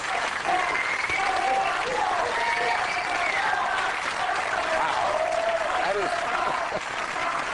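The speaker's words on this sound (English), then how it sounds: "That is the most applause a Republican ever got around here." Studio audience at a late-night political talk show applauds a Republican guest, a loud sustained roar of clapping mixed with crowd cheering that holds steady throughout, with faint voices buried under it.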